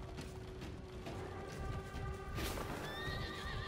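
Horses neigh and whinny in the video game For Honor while hooves clip-clop at a steady gallop, with a constant mechanical rumble throughout and a bright whinny rising near the end.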